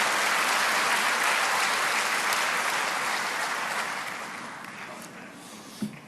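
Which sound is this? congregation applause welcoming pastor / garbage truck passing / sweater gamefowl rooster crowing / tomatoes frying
congregation applause welcoming pastor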